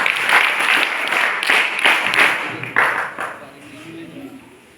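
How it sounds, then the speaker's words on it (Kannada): An audience at a school quiz event claps to wish the teams well. The applause is loud and close, with several bursts that fade out toward the end, and a voice is heard over part of it. "ಎಲ್ಲರಿಗೂ ಚಪ್ಪಾಳೆಯ ಮೂಲಕ ಶುಭವನ್ನ ಕೋರ್ತಾ ಇದ್ದಾರೆ ಸಭಿಕರು"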